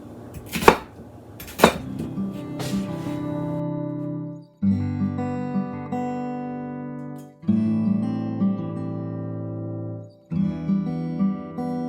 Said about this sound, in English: we're just going to chop these up in chunks